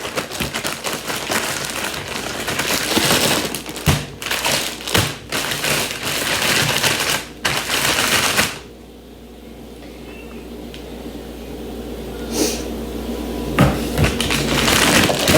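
Chicken pieces shaken inside a closed Ziploc bag to coat them, giving a dense rattling, tapping patter for about eight seconds, then quieter handling noises.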